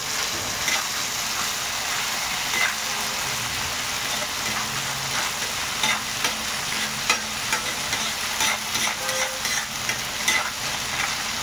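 Ginger, garlic and green chili paste frying in a hot pan, a bright continuous sizzle with periodic scraping and clinks from stirring, close and without talk.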